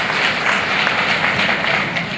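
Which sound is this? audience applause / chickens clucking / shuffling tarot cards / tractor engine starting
audience applause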